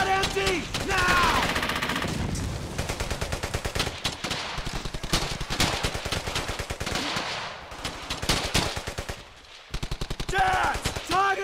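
Sustained World War II machine gun fire in Brothers in Arms: Hell's Highway, rapid loud bursts rattling almost nonstop with brief breaks, shouted voices over the gunfire at the start and end.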